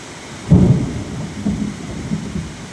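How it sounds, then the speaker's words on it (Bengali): Deep thunder rumbles over steady heavy rainfall drumming on a tin roof: one loud, heavy roll, followed by two softer, shorter rumbles a second or so apart. "এই দেখো ম্যাগের গর্জন"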